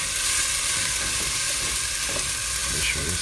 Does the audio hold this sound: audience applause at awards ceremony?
no